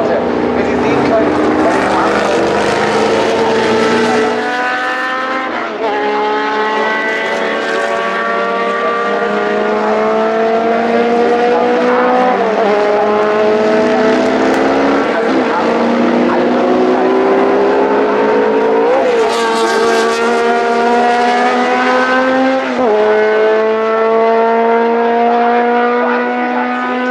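A historic CanAm race car on the Hockenheim circuit roars loudly past the commentary booth with a high, rising engine howl and gear changes, while a commentator talks over it throughout.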